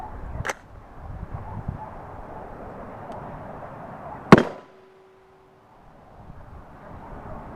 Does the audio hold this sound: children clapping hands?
no